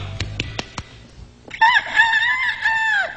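A comedian imitates a chicken on stage, starting with a few short sharp clucks and then a long wavering crowing cry. The voice is close and loud, with no other talk.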